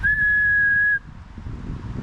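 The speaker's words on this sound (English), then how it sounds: "You don't want to be hearing that, do you? Me whistling, waking everyone up on a Tuesday morning." A person whistles one long, steady, piercing note for about a second outdoors in a park, then it cuts off to quiet outdoor ambience.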